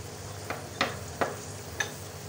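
Bell peppers frying in a pan give a faint, steady sizzle, broken by four sharp scraping stirs of a utensil against the pan.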